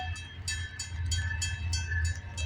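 A CN freight train rolls past at a road crossing near a siding, with steady low rumble and rhythmic clicking of wheels over rail joints, close and continuous, with no voices.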